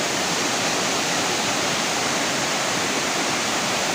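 Nang Khruan waterfall in Tak province, Thailand, roars in a dense, unbroken rush of falling water, loud and close, with no voices.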